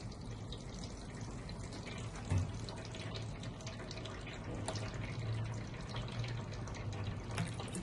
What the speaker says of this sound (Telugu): ఈ వాటర్ ఎలా ఫిల్టర్ అవుతుంది చూడండి